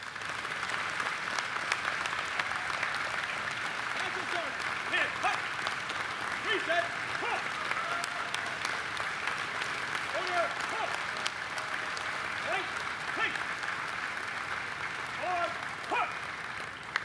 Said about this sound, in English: Let's give another warm applause to our National Sergeant of Arms.